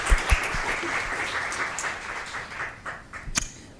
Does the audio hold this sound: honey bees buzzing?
no